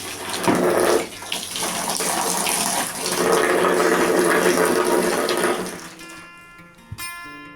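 Tap water pours steadily into a bath being filled for a child, a loud, close, continuous rushing splash that dies away near the end, leaving faint ringing tones, with no speech.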